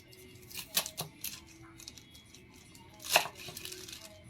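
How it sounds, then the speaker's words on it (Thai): Vegetables sliced on a cutting board with a knife while preparing a spicy Mama instant noodle salad, a few sharp, irregular close chops and clacks with short pauses between them, and no one speaking. "หั่นผักเตรียมไว้ก่อนนะครับแล้วเดี๋ยว เราได้มา ทำน้ำยำกัน"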